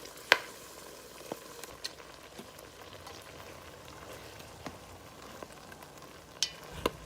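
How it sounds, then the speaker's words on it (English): Cranberries for cranberry sauce simmer on low heat in a pot, giving a soft, steady hiss broken by scattered faint pops and bubbling clicks, close but quiet, with no voices. "just put them on a low simmer and just let them be able to sit there and cook"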